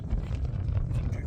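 Gusty wind rumbling hard across the microphone at night in Kirkcudbright, a loud, uneven low roar throughout.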